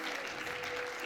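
Audience applause at a ceremony for the International Day of the Girl Child, a steady, moderately quiet wash of clapping from a seated crowd lasting about a second without pause.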